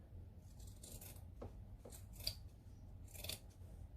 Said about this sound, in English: So I'm just going to trim that down because the rest of it matches up around the bottom.